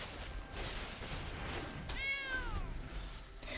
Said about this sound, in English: The little fake meow sound.